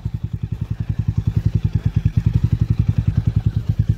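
A 440 cc motorcycle riding off-road on a forest track, its single engine thumping in a fast, even pulse, loud and close throughout with no voices.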